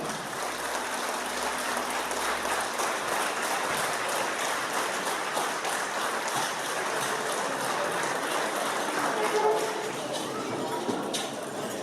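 Sustained applause at a celebration as a toast is raised to the Armenian army, a dense, steady wash of clapping from a crowd lasting many seconds, broad and even in loudness.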